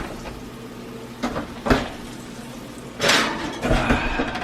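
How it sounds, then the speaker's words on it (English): A cast iron pan is set into an oven in a home kitchen, giving a few clanks and knocks followed by the thud of the oven door, close and moderately loud amid quiet background hum. "And then get this whole pan right in the oven."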